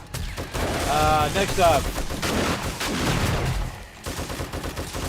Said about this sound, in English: my goal is to really just to hit the big mobs with the heavy weapon